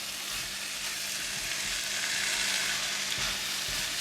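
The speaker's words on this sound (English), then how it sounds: "Just continue to stir fry for about 1 minute for all the ingredients and all the seasoning well combined." Chicken and corn soup ingredients stir-fried in a pan, a steady close sizzle with soft scraping stirs throughout, no talking.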